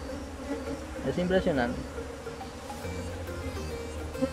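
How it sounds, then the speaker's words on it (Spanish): Honey bees from an extremely defensive colony drone steadily around a beehive during a hive transfer, while a person speaks briefly over the buzzing. "Todas las abejas que tiene."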